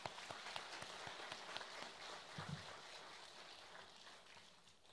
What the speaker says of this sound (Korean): 우리 박수 한번 좀 쳐드립시다